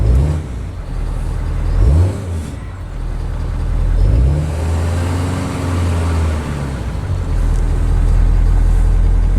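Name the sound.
2019 Ford F250 6.7L engine running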